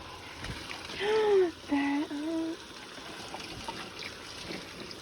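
Tap water trickles softly into a kitchen sink while soap is rinsed off, a faint continuous running sound with a short stretch of a person's voice over it.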